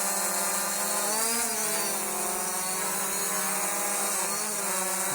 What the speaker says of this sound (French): Le drone est assez stable.